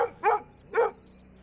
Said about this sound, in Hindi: दूर कहीं कुत्ते भौंक रहे थे